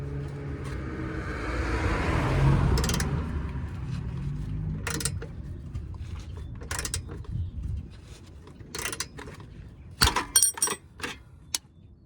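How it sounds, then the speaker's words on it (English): A long ratchet straining on a seized BMW exhaust bolt, with creaking, grinding effort followed by scattered sharp metallic clicks and clanks, close and fairly faint. "I got this long ass ratchet on here, and it's still just struggling really badly to turn the bolt."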